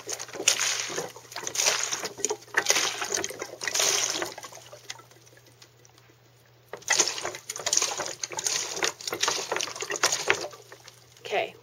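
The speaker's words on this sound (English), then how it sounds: "Let me drain it out some more." Water drains from a homemade vortex container, gurgling and sloshing in two long stretches. A quiet pause falls midway between them, and the sound stays close and fairly loud.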